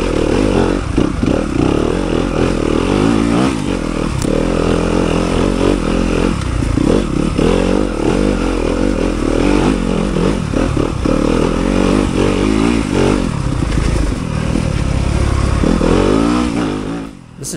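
A 2023 Yamaha YZ250FX dirt bike climbs a trail hill, its engine loud and steady with constant revving and rattling clatter from the ride throughout.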